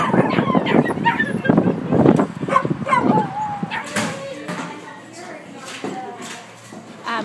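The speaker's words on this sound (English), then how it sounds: "These are dogs that were in the shelter that needed to be moved out" Shelter dogs moved out of Oklahoma after tornadoes bark, yip and whimper in short bursts during unloading, heard close and under steady talk.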